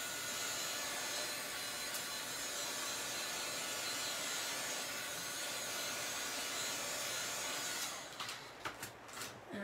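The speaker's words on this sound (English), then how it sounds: "And I'm just going to hit it with a little dryer." A hair dryer blows on chalk paste spread through a stencil transfer for a chalk craft project, a steady close whooshing roar for about eight seconds before it shuts off, followed by a few light clicks and handling sounds.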